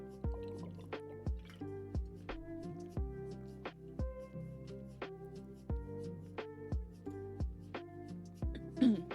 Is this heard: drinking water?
yes